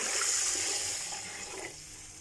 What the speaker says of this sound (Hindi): मेरे पास ये यखनी है, मैं ये ऐड कर रही हूँ।